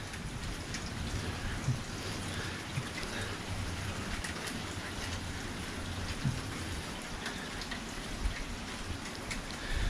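Quarter-size hail falls during a hailstorm, a steady, dense, broadband patter of impacts that holds at an even level throughout, with no voices.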